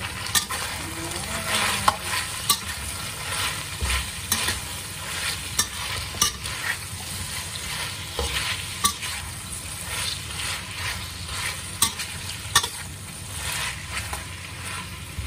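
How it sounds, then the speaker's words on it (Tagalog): Bitter gourd sautéing in a pan with black salted beans and chicken, a continuous dense sizzle with frequent small crackles and pops, close and steady throughout, with no voices. "Antayin po natin na maluto ang ating ginisang ampalaya with tausi or black salted beans"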